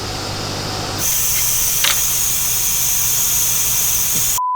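A constant loud hiss of air flows steadily to hold springs up, starting abruptly and running unbroken until it cuts off at the end.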